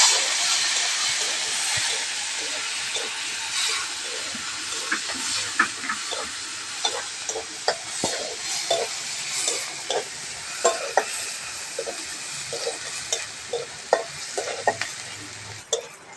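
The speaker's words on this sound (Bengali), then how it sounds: "পেঁয়াজটা একটু হালকা করে ভেজে নেবো" Chopped onion, added with cumin seeds, sizzles lightly in hot oil in a pan, with a steady frying hiss and intermittent scrapes and clinks of a spoon stirring against the pan, close and without talk.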